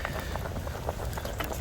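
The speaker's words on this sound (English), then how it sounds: "Look at it bubble." A pot bubbles on a camp stove at a woodland wild camp, giving a quiet, steady stream of small popping blips. The sound is faint and close, with no talking.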